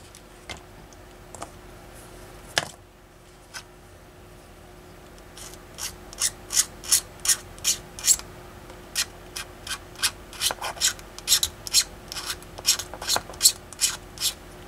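Sanding a B-47 Stratojet scale model kit, with scattered scrapes that build into a steady run of quick, crisp rasping strokes close up.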